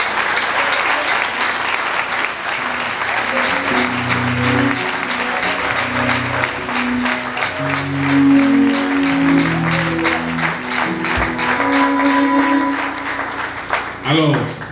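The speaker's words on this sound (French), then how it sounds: "on nous applaudit Seigneur." A church congregation at a prayer gathering applauds in a loud, sustained wash of clapping, with singing or voices and low musical tones running beneath it throughout.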